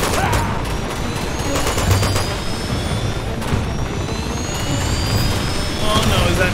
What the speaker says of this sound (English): That missile. It's missiles.